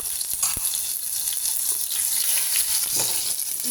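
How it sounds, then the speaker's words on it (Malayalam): Butter sizzles in hot coconut oil in a pan, a steady bright hiss with faint crackles throughout. No one speaks. "ആദ്യം കുറച്ച് എണ്ണ ഒഴിച്ച് വെളിച്ചെണ്ണ ഒഴിച്ചിട്ടുണ്ട് എന്നിട്ട് അതിലിത്തിരി ബട്ടർ ഇത് ബട്ടർ ഇടാം"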